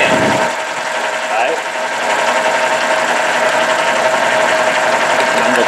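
Nissan Sentra engine idling with a random misfire from bad fuel injectors, a loud, dense mechanical clatter with a fast, uneven ticking that runs without a break, recorded close under the hood.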